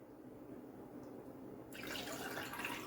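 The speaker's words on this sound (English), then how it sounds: "add some ice in my glass here and pour you guys a nice refreshing" Cucumber juice pours into a glass with ice, a steady liquid splash that swells louder and brighter partway through, heard close and alone.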